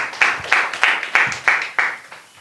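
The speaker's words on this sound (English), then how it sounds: "Give a round of applause" Scattered, rhythmic clapping from an audience at a social development event in Nevis, a steady run of sharp claps, fairly close and not very full.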